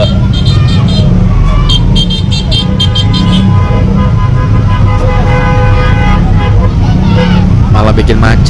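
Jammed road traffic sounds loud and dense, with engines rumbling, repeated car horn toots in short bursts, and people talking through the din.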